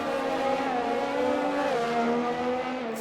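Racing car engine in a video game, lapping the Zandvoort circuit on fresh tyres, a loud continuous high-pitched drone with slowly shifting pitch and no pause.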